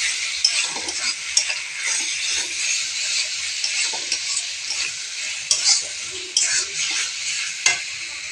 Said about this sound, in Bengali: দেবো আদা বাটা, দিয়ে নাড়াতে থাকবো।